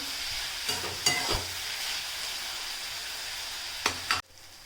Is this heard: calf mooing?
no